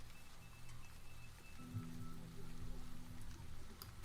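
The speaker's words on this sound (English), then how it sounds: "The rain's picking up." Steady rain falling in a dense, continuous hiss that grows slightly heavier, heard under a low background hum with no voices over it.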